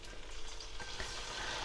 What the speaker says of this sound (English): Now, this is sizzling